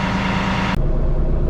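An LS MT232 compact tractor engine running as the tractor backs up during backhoe installation, a loud, close, steady diesel drone with a brief break partway through and no talk.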